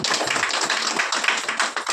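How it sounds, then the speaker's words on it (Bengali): A crowd applauds steadily, many hands clapping in a dense, lively patter that carries on without a break. "ম্যামের জন্য আর একটা জোরে হাততালি।"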